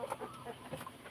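Backyard mixed flock of native chickens, including three roosters, and thirteen Rhode Island Reds, clucking in a few short, soft calls close by, with no talk over them.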